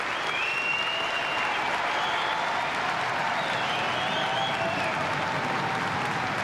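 Sustained audience applause for snooker player Willie Thorne at a trick shot championship, a thick, even wash of clapping throughout with faint whistles or cheers mixed in.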